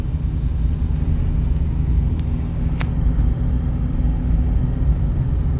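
Interior drone of a VW Gol 1.8 engine on the road as it moves through second and third gear, a steady low rumble with a couple of faint clicks and no clear talk.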